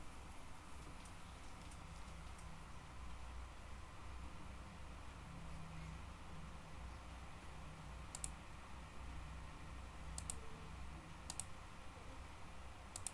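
A computer mouse clicks while a user works in SolidWorks 2020 software. A few sharp, faint, separate clicks are spaced seconds apart over a quiet background hum.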